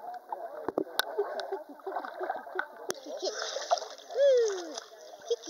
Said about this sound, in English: Look at him swimming.